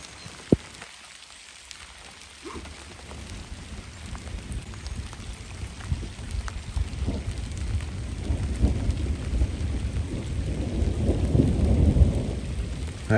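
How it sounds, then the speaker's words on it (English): Deep, rolling thunder grumbles through a rainstorm up north, building in loudness toward the end over steady rainfall. "That was rumbling thunder."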